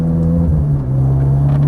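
A Ferrari F430 engine at Exotic Racing Los Angeles drones loudly inside the cabin, its steady tone dipping briefly as it shifts up into fourth gear, then settling back into a constant hum.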